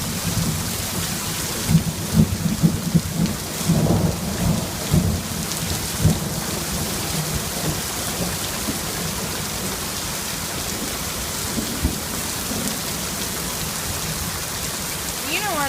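A California thunderstorm brings heavy rain hissing steadily while thunder rumbles and cracks in several bursts early on, then the downpour continues under fainter rolls of thunder.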